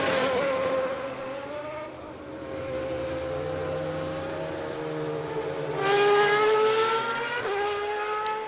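A Superleague Formula race car in Olympiacos colours pulls away during qualifying at the Nürburgring, its engine climbing through rising revs and shifting gears, loud and close with a steady roar throughout.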